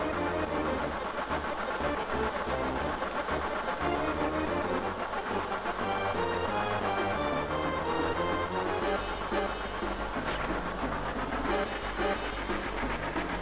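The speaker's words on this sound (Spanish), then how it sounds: "¡Estamos aumentando la velocidad!" A train speeding up in the Final Fantasy VII video game, a steady, continuous rumble with rhythmic rolling clatter and a deepening low drone, with no voices.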